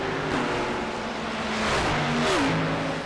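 Race cars in an iRacing mixed-class race at Watkins Glen roar past a slower GT4, engines droning steadily with pitch shifts as gears change, a clear close whine swelling and sliding through the short pass.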